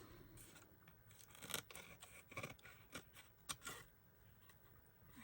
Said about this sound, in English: just neaten up these little edges with some scissors